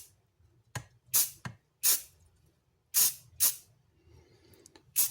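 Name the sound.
spray paint can spraying a light coat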